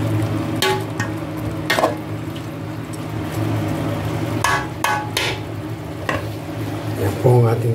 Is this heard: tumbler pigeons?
no